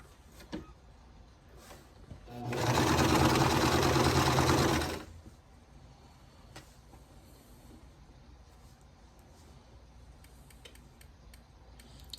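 Sewing machine stitching tiny quilt block squares, a fast loud burst of rapid mechanical stitching lasting about two seconds, surrounded by quiet handling clicks and ticks before and after.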